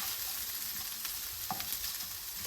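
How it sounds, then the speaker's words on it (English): Spinach cooks down in a pan while being stirred, a close, continuous sizzle with soft scraping and a few clicks from the utensil against the pan, heard alone without voices. "I'm actually going to make sure you keep stirring because it will stick."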